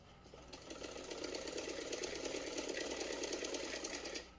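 A close sewing machine runs steadily for about four seconds with a fast, even chatter of needle strokes, stitching a small yellow dhoti for a doll.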